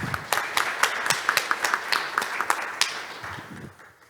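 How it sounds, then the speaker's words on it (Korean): Applause at a shipbuilding industry panel discussion in Busan, a modest, fairly sparse round of claps with distinct individual hits, tapering off and ending after about four seconds. "여러분 큰 박수로"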